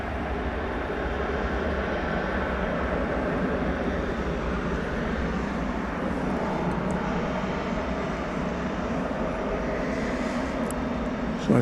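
A Boeing Dreamliner airliner sits on a runway at Dallas Fort Worth airport at night, its engines producing a steady, loud jet roar that holds at an even level for the whole stretch, with faint background noise.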